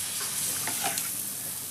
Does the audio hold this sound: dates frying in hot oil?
yes